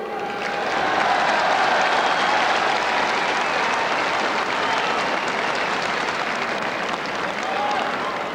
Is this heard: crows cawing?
no